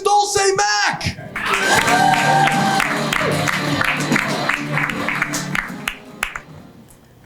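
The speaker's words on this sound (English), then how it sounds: "please start clapping right now" A stand-up comedy audience breaks into dense applause with scattered cheers and shouts, loud and sustained before thinning toward the end, mixed with some talking.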